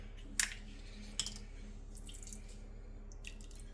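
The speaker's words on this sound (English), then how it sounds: "we're going to go ahead and add some water to it." Water being added to a sourdough starter after months in the fridge, a couple of faint drips and small splashes with light clinks, quiet and close in a still kitchen.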